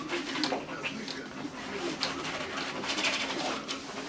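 Soft cooing of pigeons or doves repeats a few times over a steady, hissy background, fairly close and moderately loud, with no speech.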